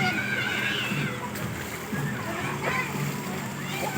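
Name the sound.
children splashing and playing in water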